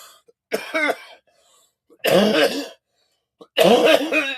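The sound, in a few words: coughing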